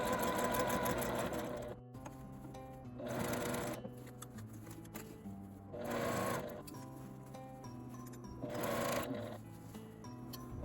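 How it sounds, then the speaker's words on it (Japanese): A home sewing machine stitching a drawstring bag, running in four bursts of rapid mechanical whirring with short quiet pauses between them, close and clear with no talking. "外せないミシンの場合は裏布を縫わないように注意します。"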